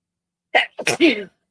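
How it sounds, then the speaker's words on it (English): A single sharp human sneeze, close and loud, with a quick in-breath followed by a forceful burst, then silence. "I feel like I'm going to sneeze"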